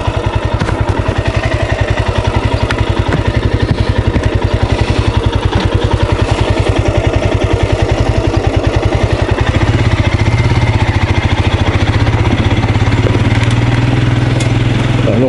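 A Royal Enfield Scram 411 motorcycle ridden off road on dirt tracks, its single-cylinder engine thumping in a steady fast pulse, close and loud throughout with a clattering mechanical edge.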